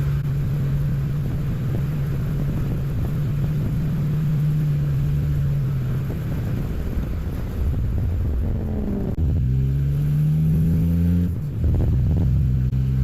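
Race cars speed around the track at the Talladega race, a loud continuous engine roar that holds steady, then swells and shifts pitch as cars pass, with no talking.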